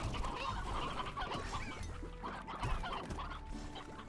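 An elder chicken in the Slime Rancher video game makes low, busy clucking and honking fowl calls that run on without a break over game background sound.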